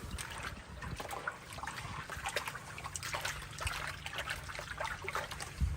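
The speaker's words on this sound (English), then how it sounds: "I'm just going to pan this out." Water trickles and swishes steadily as red desert dirt is panned out in the Arizona desert, with a continuous close wet sloshing and no one speaking.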